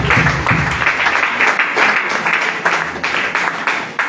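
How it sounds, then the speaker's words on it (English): A church congregation claps together in loud, close, rhythmic bursts that keep going for about four seconds. "Clapping."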